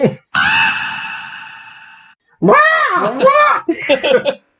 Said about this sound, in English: as the crow sounds out